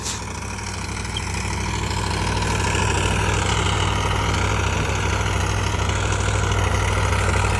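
Sonalika RX47 2WD tractor engine idling steadily in a potato field, a loud, continuous low diesel rumble that holds constant throughout with no talk.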